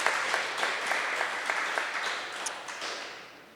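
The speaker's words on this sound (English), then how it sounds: "So please, a round of applause." An audience gives a round of applause for an author, a bright, busy clatter of many hands with a few sharper individual claps, fading gradually toward the end.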